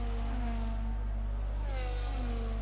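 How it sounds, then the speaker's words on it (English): In the F1 25 racing game at the Australia round, a Formula 1 car engine whines steadily, its pitch shifting as it changes gear, over a constant low hum. "It is a beautiful noise listening to an F1 engine"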